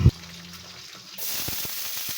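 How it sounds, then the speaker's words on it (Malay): Cabbage, green beans and egg frying with garlic and onion in a pan: a steady sizzle that swells after a brief thump, with scattered pops and crackles and no talk. "Ni nak goreng sayur pula ya, kobis dengan kacang puncis."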